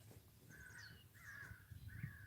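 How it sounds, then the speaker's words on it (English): Blackbirds squawking outdoors, three harsh rasping calls in quick succession, faint and somewhat distant over low background rumble. "Those are the blackbirds squawking."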